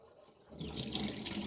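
Household faucet fed by an electric pump drawing from a private deep well: quiet at first, then water suddenly gushes on halfway through and keeps rushing steadily and loudly.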